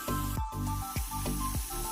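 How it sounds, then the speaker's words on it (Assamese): A tomato, garlic and onion mixture fries over a low flame, giving a steady close sizzle with a few soft sputters and stirring bumps. "বিলাহী নহৰু আৰু পিঁয়াজৰ যিখিনি মিক্সাৰ আছিলে সেইখিনি এতিয়া মই ভাজি লৈছোঁ ল' ফ্লেমত"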